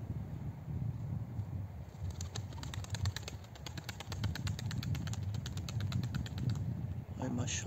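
Pigeons released from a loft during a training flight, heard as faint bird calls and wing flutters over a steady outdoor background, with a rapid series of light clicking bursts across the middle.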